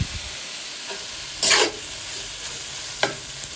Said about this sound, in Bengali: পেঁয়াজ আর রসুনটা হালকা ভেজে তারপর হচ্ছে চিকেনটা দিয়ে দিলাম।